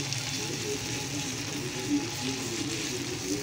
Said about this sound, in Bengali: গরম মশলা, তেজপাতা, পেঁয়াজ, কাঁচামরিচ, এলাচ, দারচিনি সব দিয়ে দিচ্ছি। এর মধ্যে দিয়ে একটু ভাজে নেব।